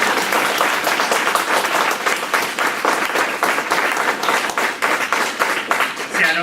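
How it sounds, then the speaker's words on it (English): A Friday audience near the Bronx claps in warm applause, a dense, steady patter of many hands that holds strong from start to finish with no speech over it. "give yourselves a warm applause"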